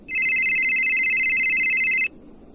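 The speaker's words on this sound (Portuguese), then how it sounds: "Pera aí, meu telefone aqui tá tocando." A telephone ringing in an Among Us animation: a steady electronic ring lasting about two seconds, loud and close, then it stops abruptly with no voices over it.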